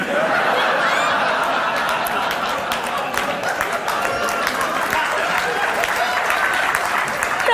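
Steady applause from a large audience fills the whole stretch, with scattered laughter mixed into the clapping.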